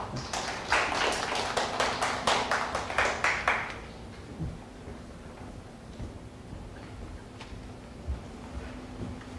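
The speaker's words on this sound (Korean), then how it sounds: "박수 한번 쳐주십시오." A small audience at a bar exam information session claps for an arriving student, a burst of sharp separate claps for about four seconds that then fades into quiet room tone with faint knocks.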